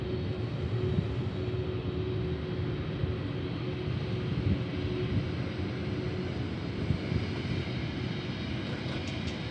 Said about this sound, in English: And Airbus on an American 1119 is ready to roll